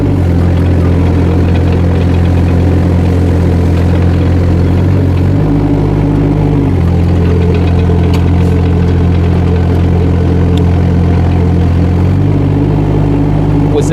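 A JoyT5 JT5200 2-ton mini excavator engine running in double speed, a loud steady diesel drone close by, its pitch dipping and rising briefly twice as the hydraulics load up.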